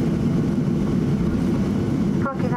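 A steady, loud rumble fills the cabin of a Japan Airlines airliner, flight 208 from Chubu, just after a night landing at Tokyo's Haneda Airport, with a short whoosh near the end.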